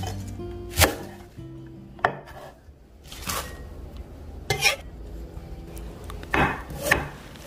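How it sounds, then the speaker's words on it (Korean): Knife chopping chives and carrots on a wooden cutting board for Korean jeon, with a few sharp, separated strikes spaced irregularly over a faint background hum. "부추와 당근을 썰어서 준비해 주세요."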